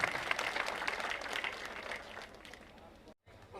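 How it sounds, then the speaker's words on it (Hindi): Crowd clapping at a political welcome gathering in India, a dense, loud wash of many hands that thins slightly over a few seconds and breaks off briefly near the end, with voices talking over it. "एक बार जोरदार तालियों से स्वागत करें।"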